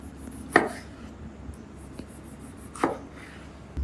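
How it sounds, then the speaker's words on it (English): Two sharp knife chops strike a cutting board as a large tomato is cut into small pieces, spaced a couple of seconds apart, close and crisp against a quiet background. "One large tomato, just cut into small pieces."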